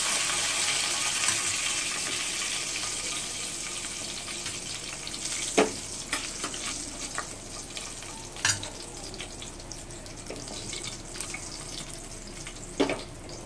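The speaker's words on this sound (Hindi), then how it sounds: "और लहसुन डालेंगे, लाल मिर्च, कड़ी पत्ता और इसको भून लेंगे।" Garlic, red chili and curry leaves fry in hot oil for tuvar dal, giving a continuous close sizzle punctuated by a few sharp spoon knocks and scrapes against the pan.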